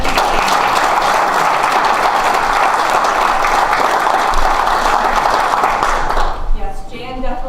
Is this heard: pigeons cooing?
no